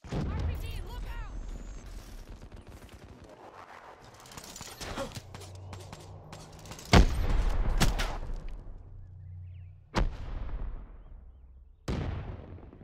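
Video game combat with RPG explosions and gunfire: sharp blasts and shots crack out at irregular intervals over a rumbling battle din, and several loud detonations stand out near the end.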